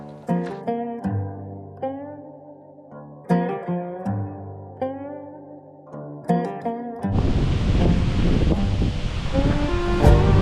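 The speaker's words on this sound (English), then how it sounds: "It's really windy." After a stretch of music, strong wind gusts roar and buffet against the microphone in a loud, continuous rush in a Swiss mountain town.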